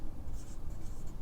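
Chalk or marker strokes scratch across a board during a lesson, several short rhythmic squeaks close by over faint room noise.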